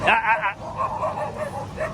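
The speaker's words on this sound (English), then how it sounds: "Barky dogs." A dog barks and yips a few times up close, its short cries mixed with a person talking.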